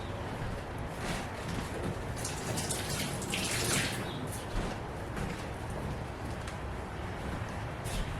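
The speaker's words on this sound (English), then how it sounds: "I'm gonna wash my hands quick." Hands being washed under a running kitchen tap, a steady broadband rush of water lasting throughout, fairly close and continuous with small splashy fluctuations.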